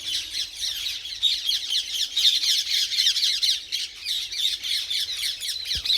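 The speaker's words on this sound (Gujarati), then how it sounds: "આ તો બધા પોપટ ઉડીને જતા રહ્યા" A flock of parrots squawks continuously as the birds take off near a village temple, loud harsh calls overlapping in a steady chorus for several seconds with no talk.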